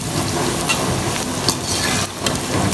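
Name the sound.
okra (bhindi) frying in a pan on high heat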